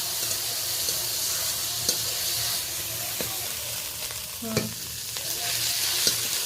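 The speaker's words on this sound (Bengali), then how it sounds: "আধা চামচ আমি রসুন বাটা দিয়ে দিলাম। ভালোভাবে পেঁয়াজের সাথে মিশিয়ে নিচ্ছি।" Garlic paste stirred into onions and ginger paste frying in oil: a steady sizzle fills the background, punctuated by occasional soft scrapes and taps of the spoon against the pan.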